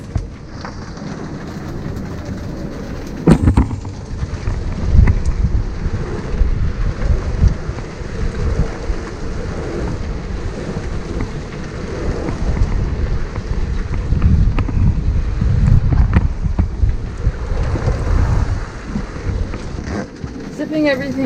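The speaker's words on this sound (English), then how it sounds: "It's probably blowing at least 30 outside right now. Super nasty squall." A super nasty squall blowing at least 30 knots lashes a sailboat under mainsail alone, with a constant roar of wind and rain and heavy buffeting on the hull, loud and unbroken throughout.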